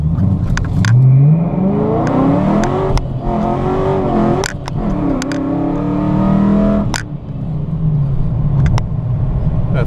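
A Procharged Dodge Challenger R/T with a 5.7 Hemi launches hard on a 0-60 run, its supercharger whine climbing through repeated rising sweeps between quick gear shifts. The engine roars loud and close throughout.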